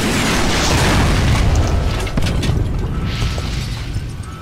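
Rocket liftoff in the video game Fallout: New Vegas, a loud, sustained roaring boom with rumbling low end that holds for several seconds and slowly eases.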